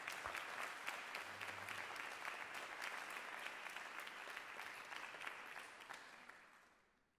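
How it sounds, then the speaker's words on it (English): Steady, dense audience applause fills a spoken word poetry night, loud and sustained with scattered claps, then fades out at the end. "One more round of applause for Ms. Tutu."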